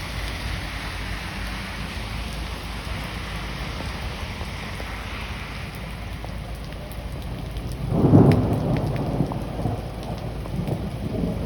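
Steady rain pours down during a thunderstorm, and a deep roll of thunder swells up partway through, then fades back into the constant hiss of rainfall with no one speaking.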